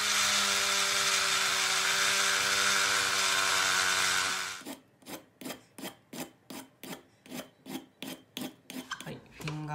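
A file rasps the finger grooves off the polymer grip of a Tokyo Marui Glock 17 Gen4 airsoft pistol: a continuous harsh scraping first, then about fifteen rhythmic back-and-forth strokes, close and loud.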